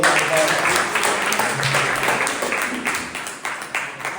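Audience clapping at a Toastmasters club meeting, a sustained round of applause with uneven swells, mixed with faint voices and murmuring underneath.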